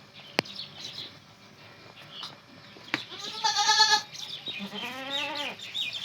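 A pregnant goat, a month from kidding, gives two drawn-out wavering bleats close by, with a couple of sharp knocks and light bird chirps in the background.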